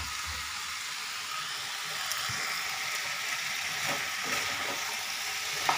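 Potatoes sizzle in oil alongside a sautéed jackfruit curry for a Bengali echorer torkari, giving a steady, dense frying hiss with occasional soft stirring clicks, close and even throughout with no voices.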